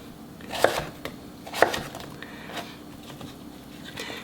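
A knife slicing turnips on a cutting board, two sharp loud chops followed by a few softer taps, close up with quiet pauses between, and no talking.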